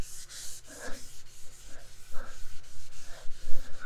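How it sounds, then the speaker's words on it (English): A Scotch-Brite pad with Comet cleanser scrubs a gelcoat surface in quick repeated rasping strokes, close and fairly loud, about two per second. "we're gonna use a little Comet. And a Scotch-Brite."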